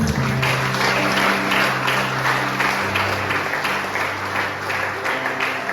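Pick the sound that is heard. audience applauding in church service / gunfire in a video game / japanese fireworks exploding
audience applauding in church service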